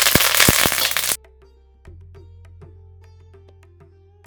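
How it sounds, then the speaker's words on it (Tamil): Mustard seeds crack sharply in hot oil for a Tamil temple-style puliyodharai tempering, a loud burst of pops at first, then quieter scattered crackles over a steady hum. "கொஞ்சமாக கடுகு சேர்த்துக்கிறேன் கடுகு கிராக்கலாம்"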